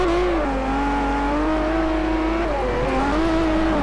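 A drift-build car in Forza Horizon revs hard throughout, its loud engine tone rising and falling in wavering pitch sweeps as the throttle is worked, with no talking over it.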